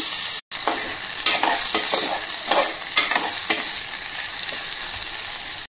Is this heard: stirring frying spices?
yes